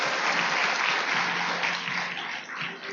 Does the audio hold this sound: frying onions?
no